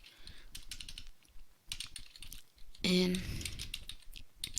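Typing on a computer keyboard while working in Microsoft Publisher, heard as rapid, uneven clicking bursts throughout, with a brief spoken word partway through.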